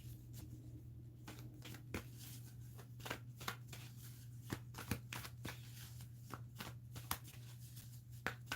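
A deck of tarot cards is shuffled close up, with soft repeated riffling snaps and slaps in an uneven rhythm over a low steady hum.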